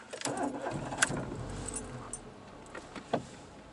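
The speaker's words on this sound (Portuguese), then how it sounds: "deixa eu ligar o carro para ver" A Renault Sandero Stepway engine cranks and turns over up close, with keys jangling and a few clicks and thumps as it settles.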